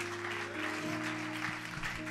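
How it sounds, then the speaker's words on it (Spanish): A church congregation breaks into applause during a worship service, with a steady wash of clapping over sustained organ or keyboard tones. "Dale el aplauso al Señor."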